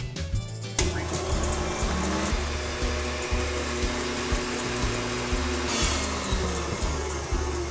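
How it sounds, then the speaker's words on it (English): A stand mixer whisks a tiramisu egg and sugar mixture, starting with a click and then running as a continuous loud, close whirring hum with a faint rhythmic pulse from the rotating whisk. "And then it goes on the machine and we're going to whisk it until it's nice and light and creamy."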